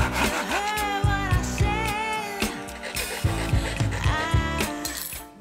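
A wooden triangle is cut by hand with a saw, giving repeated rhythmic rasping strokes, close and fairly loud, over a tonal background.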